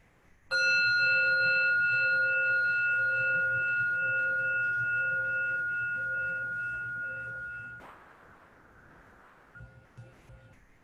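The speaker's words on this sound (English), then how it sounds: "going to begin with the sound of the bell" A meditation bell is struck once at the start of a Buddhist ceremony, ringing with a clear sustained tone that lingers for about seven seconds before cutting off, followed by quiet room noise.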